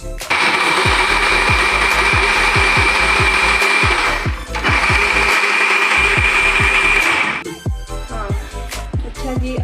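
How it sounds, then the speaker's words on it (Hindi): A kitchen mixer grinder whirs loudly and steadily while grinding fried onions with yogurt, with rhythmic knocking from the jar, a brief pause midway, then the motor winding down. "इस दही में ये प्याज मिला के हम इसको ग्राइंडर में डाल के अच्छी तरह से बारीक पीस लेंगे"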